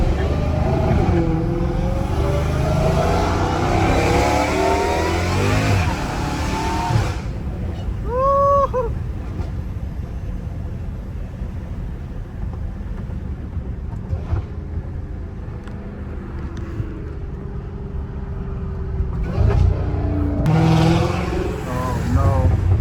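A Dodge Challenger Hellcat Redeye roars loudly up close, its engine surging, then dropping away to a low rumble and a quieter stretch before another rise near the end.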